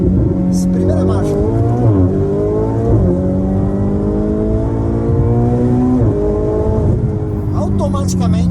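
A Ferrari 488 Spider accelerates hard in first gear, its engine note climbing in several rising sweeps between shifts, loud and close throughout with a voice talking over it.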